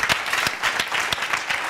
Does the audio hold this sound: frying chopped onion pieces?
no